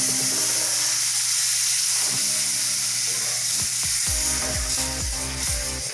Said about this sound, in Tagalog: Tapos, ilagay na natin ang ating gata.